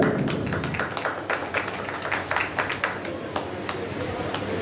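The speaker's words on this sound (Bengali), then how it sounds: "করতালি দিয়ে অভিনন্দন জানাই।" Applause at a school batch reunion after 26 years: scattered hand claps in an irregular, moderately close patter that continues steadily and does not build into a roar, with some speech mixed in.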